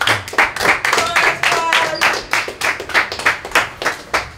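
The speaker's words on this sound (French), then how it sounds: "On va applaudir Smile les gars." A group of people clapping together in a quick, steady rhythm, close and lively, a short burst of communal applause for a teammate named Smile at a sports club.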